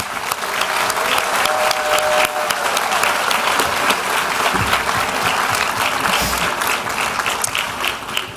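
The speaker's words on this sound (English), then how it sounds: "Could we give one final round of applause for all of our recipients?" A dinner audience at an alumni awards celebration gives a long, steady round of applause for the honorees, dense clapping filling the room without a break.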